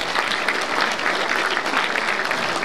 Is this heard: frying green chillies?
no